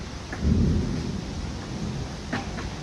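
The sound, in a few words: rain with thunder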